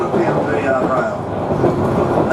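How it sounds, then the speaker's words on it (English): Train wheels roll over rail joint gaps on light 41 and a quarter pound per yard track near Almaden, giving a steady loud rumbling clatter heard from aboard the carriage. "We run over the gap. We got that clickety clack noise."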